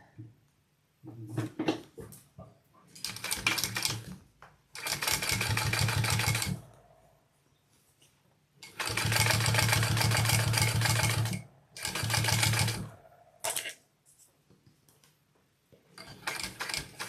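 Sewing machine stitching a bucket bag, running in several bursts of a few seconds each with rapid mechanical rattling, separated by quiet pauses and occasional small clicks.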